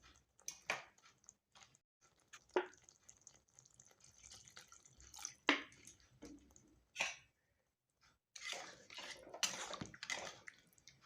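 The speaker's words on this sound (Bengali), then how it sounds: "অল্প জল দিচ্ছি।" Water splashes into a pan of paneer masala curry in short bursts and a longer pour near the end, close up with quiet gaps between.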